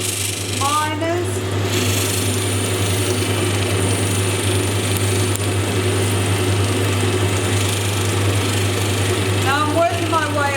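An opal being ground on a spinning lapidary wheel, moving up through progressively finer wheels, gives a steady, close motor whine and grinding hum that runs continuously, with brief squeaky scraping at the start and end.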